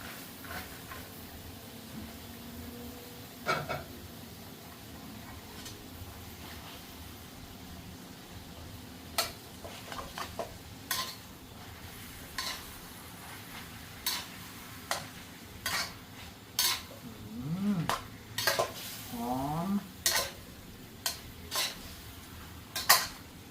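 Holy basil and beef being stir-fried in a pan: a faint sizzle under repeated sharp clinks and scrapes of a utensil against metal, growing busier and more rhythmic toward the end, with no talking.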